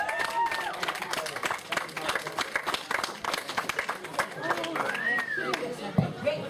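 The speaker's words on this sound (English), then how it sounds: "Nice round of applause to Terry as well" An audience at a comedy show claps in a patchy round of applause, with scattered claps and crowd murmur mixed with nearby voices chattering over it.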